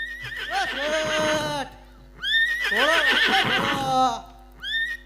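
Horse neighing during a Gujarati stage play of Ra'Navghan: two long, loud whinnies rising and falling in pitch, then the start of a third short one, heard near and clear.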